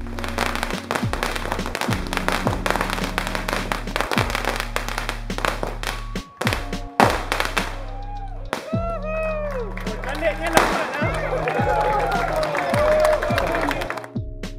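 Fireworks go off in repeated booms and sharp crackling bursts, some whistling, against a steady low background hum, with crowd cheering and clapping mixed in and a voice talking over them.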